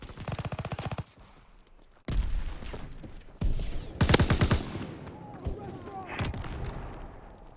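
Shotgun blasts and rapid gunfire in the video game Prop Hunt, several loud bursts of repeated shots separated by brief gaps, with players talking over them.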